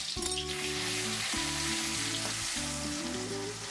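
A tablespoon of crushed garlic and green chili sizzles in hot oil for egg bhurji rice, a steady hiss running under a low, stepped tonal hum.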